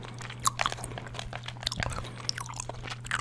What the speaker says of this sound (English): So I'm chewing two pieces of mint gum right now.